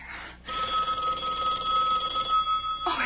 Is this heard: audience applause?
no